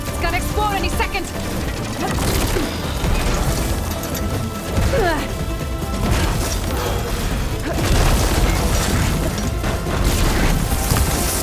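Crashing, booming blasts and mechanical clatter from combat in Horizon Forbidden West, loud and dense over several seconds with repeated impacts and whooshes.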